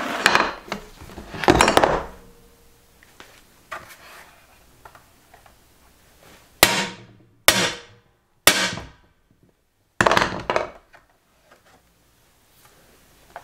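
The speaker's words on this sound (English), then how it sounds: "I've managed to break the wooden blocks" Sharp hammer blows smash wooden blocks, loud close impacts in a few separated bursts, with several single cracking strikes spaced by near silence and quieter knocks and clatter between.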